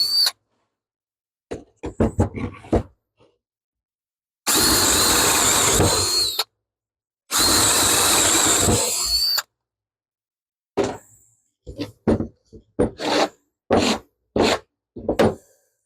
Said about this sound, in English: I'm going to do it the way that people do it, which is to drill pilot holes.